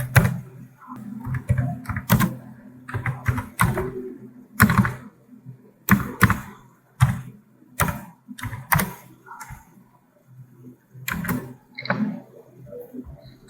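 Keys clacking on a computer keyboard in scattered bursts of quick taps separated by short pauses, close and fairly crisp, with no one talking.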